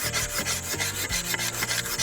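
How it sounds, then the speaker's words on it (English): A paint scraper is drawn repeatedly along a wooden longbow stave, making close, steady rhythmic rasping strokes about four times a second. "So it's the stage in between a draw knife and sandpaper. That's a paint scraper."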